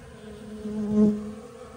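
Honeybees buzzing close by as they gather pollen substitute at an open winter feeder, a steady droning hum that swells briefly as one passes near, with no voices.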